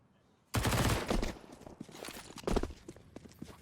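Grenade blast and MP9 submachine gun bursts in a Counter-Strike esports match, BIG vs Sprout: a sudden loud burst of rapid shots and a thump, then scattered further bursts and clatter, with faint commentary underneath.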